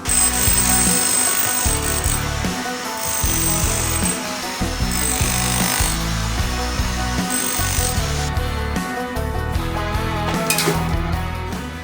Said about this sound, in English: let's pad this wall out first and chip a little bit of concrete